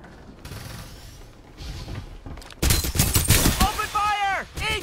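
Bursts of gunfire in the online shooter Farlight 84 during a team deathmatch, loud and dense in the second half after quieter rumbling, with voices talking over the shots.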